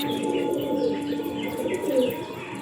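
Good-quality pigeons offered for sale coo in soft rolling phrases at close range, overlapping throatily with faint chirps as the murmur rises and dips.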